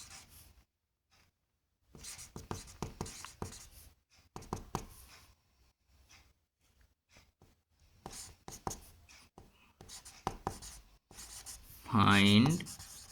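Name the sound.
writing a maths question on a board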